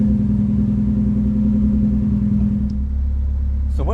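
A Nissan 240 engine holds a steady, loud rev near the mic to clear out fuel, then drops back to a lower throbbing idle at the end.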